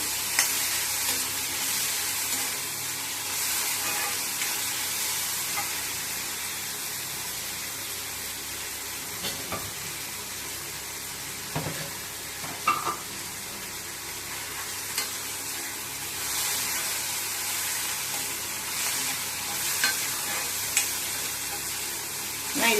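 Bitter gourd sautés for pachadi in a pan with a steady sizzle and crackle of frying. Occasional spoon stirs and scrapes break through the sizzle, which runs on without talk.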